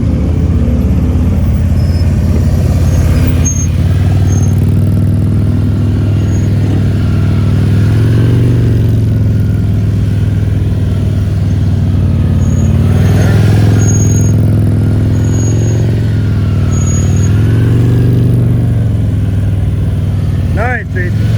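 Motorcycle engine idling and running steadily at slow speed during a riding skills practice session in Chicago, a constant low rumble throughout with a coach talking over it.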